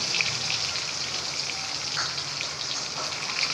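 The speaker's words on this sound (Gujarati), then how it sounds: "એ ગરમ થાય એટલે એમાં આપણે બધા જ કારેલા નાખી દેવાના છે." Bitter gourds sizzling in about two spoonfuls of hot oil in a pan, a steady soft crackle and hiss like light rain, continuous and fairly quiet with no talking.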